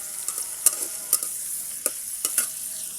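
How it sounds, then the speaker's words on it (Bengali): Onion and garlic fry in oil on a wood-fired stove, a soft continuous sizzle broken by several sharp scraping stirs of a spatula against the pan, close and without talk. "পেঁয়াজটাকে আমি এখন ব্রাউন কালার করে ভেজে নেব।"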